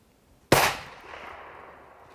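A single 6.5 Creedmoor rifle shot with an HS Precision stock, fired at a 1,000-yard target, cracks sharply and loud, then trails off in a long rolling echo.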